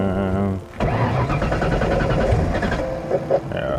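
An engine cranks and briefly catches, running roughly for about three seconds before shutting off, after a short stretch of speech at the start.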